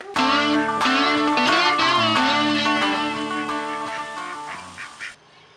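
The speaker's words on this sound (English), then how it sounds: "the dog keeps barking and the ducks keep quacking" Ducks quack in a loud, honking chorus of repeated calls in a homestead garden, with a dog also barking, the calls slowly fading toward the end.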